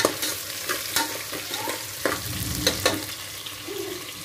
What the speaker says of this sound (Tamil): இப்போ வந்து நம்ம எடுத்து வச்சிருந்த பச்சை மிளகாயையும் போட்டு நல்லா வணக்கி விட்டுப்பா